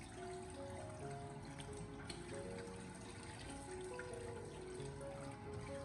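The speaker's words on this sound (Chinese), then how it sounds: "我们将鸡腿反复的清洗干净以后，接下来呀控水捞出" Running tap water pours steadily over two fresh chicken legs in a sink as they are rinsed, a continuous splashing rush with faint handling noises and no talk.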